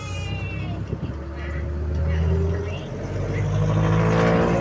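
A car pulls away in slow traffic near a hospital, its engine rising gradually under close talking voices, with a steady low rumble throughout.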